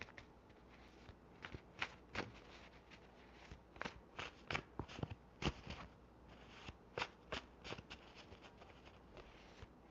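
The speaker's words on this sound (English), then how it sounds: "I'm shuffling in the karmic deck." A deck of tarot cards is shuffled close by, the quiet, repeated riffling and sliding making soft crackling bursts at an uneven rhythm throughout, with no talking.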